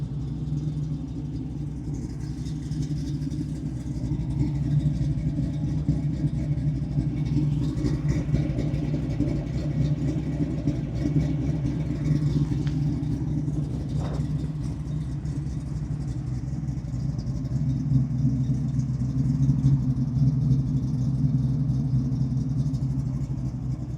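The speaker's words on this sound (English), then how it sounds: "Exhaust sounds just like you'd want it to for a 69 Restomod" The 6.2L LS3 V8 exhaust of a 1969 Chevrolet Camaro restomod rumbles steadily at idle, a low, throbbing burble that holds constant with slight surges.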